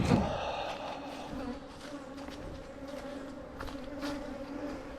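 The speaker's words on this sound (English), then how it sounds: "Bees clumping back here." Honey bees in a bee yard buzz in a dense, steady hum close by, with individual insects droning in and out over the swarm.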